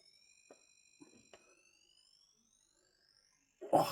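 Beeper sound effect from the ZX Spectrum racing game Full Throttle as the engine goes into overdrive: a steady, slowly rising electronic tone with a few soft clicks, ending in a short, loud burst of noise.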